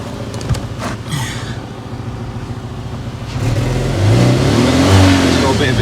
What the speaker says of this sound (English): It's got a bit of an exhaust blow.